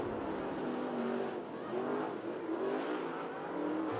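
Late model race cars roar around the dirt oval at Canyon Speedway Park during an SWDRA heat race, a continuous blend of revving engines rising and falling in pitch at a distance.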